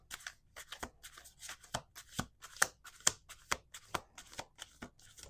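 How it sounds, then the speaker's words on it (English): Playing cards being shuffled up close, a series of quick riffling bursts repeating in a steady rhythm, with no talking. "We're going to do 2 more shuffles."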